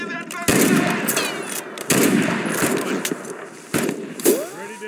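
Gunfire in the video game Mud and Blood, several short bursts of rapid shots separated by pauses, with shouted voices in between.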